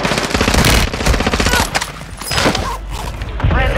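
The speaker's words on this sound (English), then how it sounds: "Hostile mortar strike incoming." Call of Duty battle audio: rapid machine-gun bursts and heavy gunfire with booming impacts from a mortar strike, loud and dense, with game voice callouts mixed in.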